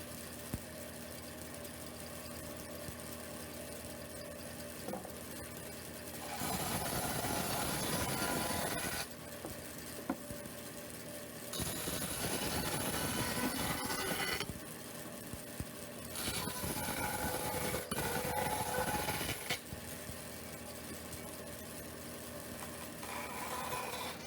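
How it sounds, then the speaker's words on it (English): A 36-inch bandsaw scuffs wooden mason jar tote pieces in three loud, rasping bursts of several seconds each, with quieter machine hum between them. "we go to our 36-inch bandsaw to scuff these up"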